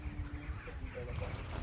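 Wind gusts buffet the microphone outdoors, a steady low rumble with rustling, and a faint voice in the background.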